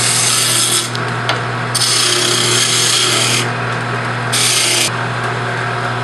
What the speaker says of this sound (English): So now I'm going to use my gouge to remove this material.